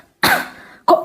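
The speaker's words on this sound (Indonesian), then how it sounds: "Kok batuk?" Two sharp, close coughs from one person, a strong harsh burst followed by a brief decaying tail, then a second cough starting right after.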